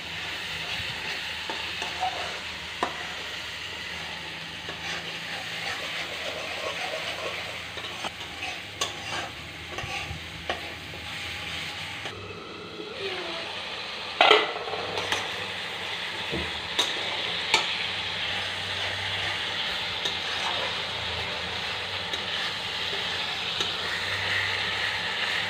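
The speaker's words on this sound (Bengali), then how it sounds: "লঙ্কা গুঁড়ো দিচ্ছি, মশলাটা কষে নিচ্ছে" A masala of chili powder and spices fries in a pan for a koi fish curry, with a constant moderate sizzle under repeated scraping from a stirring utensil and occasional clinks.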